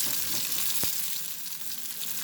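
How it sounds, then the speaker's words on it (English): Brinjal fries in a pan with a continuous bright sizzle and crackle that stays fairly quiet and even. One sharp clink sounds partway through, and nobody talks. "I'm going to fry the other side also."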